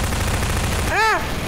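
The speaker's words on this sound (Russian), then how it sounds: "Давай, мочи его пулемет." Dense, continuous machine gun fire in the game Garry's Mod, a steady rattling roar through the whole stretch, with a short rising-and-falling tonal sound cutting in near the end.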